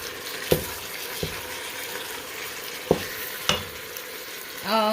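Two pounds of ground beef with onions and peppers frying in a pot, a steady close sizzle broken by several sharp utensil taps and scrapes against the pot, with a voice starting at the very end.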